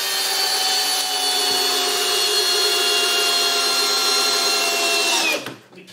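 RIDGID and Makita hammer drills run together at speed one in a side-by-side test, giving a loud, steady, high-pitched motor whine that holds evenly for several seconds before both cut out abruptly near the end.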